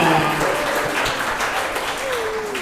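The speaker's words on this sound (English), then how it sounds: "Let's give a big applause for Mumtazah Kira." Audience applause for a speaker at a speaking summit, a steady wash of clapping through the whole stretch with a voice talking over it.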